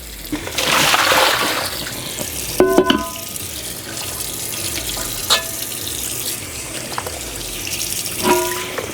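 A cleaning tool is rinsed as water runs from a tap into a sink, a rushing stream early on followed by intermittent splashes and clunks close by.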